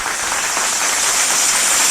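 An audience at a jatra event in Odisha claps to welcome a guest, a dense, steady wash of applause, loud and close, with no break.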